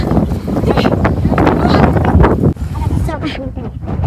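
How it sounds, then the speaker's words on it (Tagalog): Strong wind buffets the microphone in loud, continuous gusts at a cold high-altitude spot, with people talking underneath and the roar easing slightly near the end. "Parang Ang Hangin talaga"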